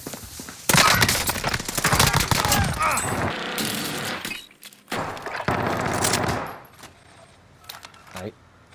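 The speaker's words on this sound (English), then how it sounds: "We're taking fire." Video game gunfire bursts in loud, dense automatic volleys, close and rapid, with a pause and then another long stretch of firing before the shots thin out to a few scattered clicks and impacts. Players talk over the shooting.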